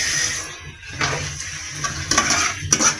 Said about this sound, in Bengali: চিংড়ি মাছগুলো হয়ে গেছে, হালকা করে ভেজে নিয়েছি।